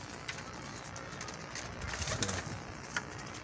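Golden pigeons coo softly in a coop, with low repeated murmuring calls over faint background noise and a couple of brief louder peaks from the birds.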